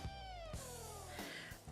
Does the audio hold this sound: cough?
no